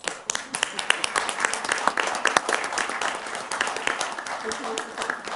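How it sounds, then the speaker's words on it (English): At a governing board public meeting, a smaller group claps for a student with uneven, individually distinct claps that rise and dip, with some voices mixed in. "If you would join me in an applause."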